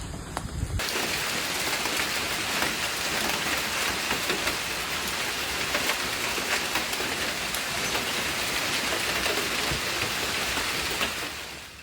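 A hail storm pelts down in Dallas, Texas, a dense, continuous roar of hard impacts battering surfaces, loud and unbroken throughout with no voices.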